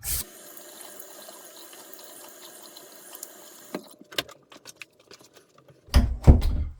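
Water runs steadily from a tap, then stops; a few clicks and clatters follow, ending with louder splashing and handling noises nearby.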